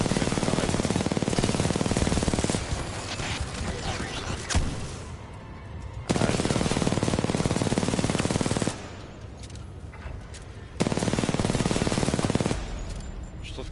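Bursts of rapid automatic gunfire in the futuristic shooter game Titanfall 2, several sustained volleys of a few seconds each broken by short quieter gaps, loud and close.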